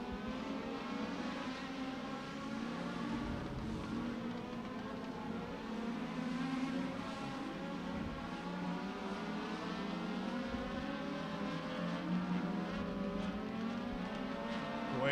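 Legend race cars roar together out of turn 4 at Beckley Motor Speedway, a dense, sustained blend of buzzing engines heard at a steady distance with no clear breaks.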